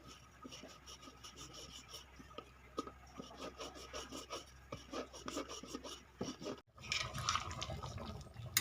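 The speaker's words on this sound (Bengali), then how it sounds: "একটা রুটির আকারে বেলে নেব।" Paratha dough dusted with cornflour being rolled out with a rolling pin for Dhakai paratha, giving a steady run of soft rhythmic rasping and rubbing strokes, close up, with a brief pause and a louder scrape near the end.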